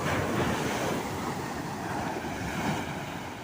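Sea waves roll steadily onto Kasaragod beach on the Kerala coast, where fishermen haul nets through the surf; a continuous broad roar with wind noise and no voices.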